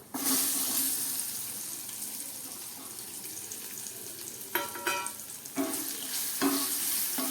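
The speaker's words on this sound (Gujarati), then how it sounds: "બધું સારી રીતે મિક્સ કરી લઈએ અને હવે સમારેલા જામફળ એડ કરી દઈએ" Chopped guava tipped into a sizzling tempering with turmeric for a Gujarati shaak, making a loud burst of hiss that settles into steady frying, with several brief scrapes and stirring strokes near the end.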